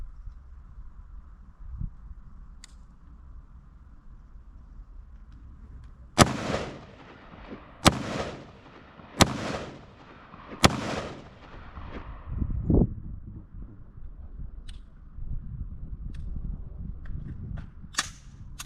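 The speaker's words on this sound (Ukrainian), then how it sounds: "Зробимо Чотири постріли. Але станемо так, щоб воно летіло не під кутом." Four sharp gunshots fired at a new-build apartment wall in a penetration test, evenly spaced in a quick series, loud and close with ringing tails over faint background hum.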